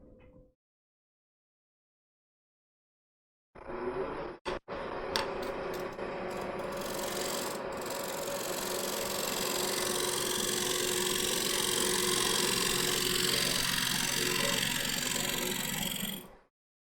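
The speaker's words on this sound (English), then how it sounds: "I prefer to just push the gouge in. This is a 3/4 inch bowl gouge" A 3/4 inch straight-wing bowl gouge pushed into a spinning wooden bowl blank on a lathe, forming a tenon: a loud, continuous rasping cut over the lathe's hum, preceded by a brief bump, a silent gap and a few sharp ticks.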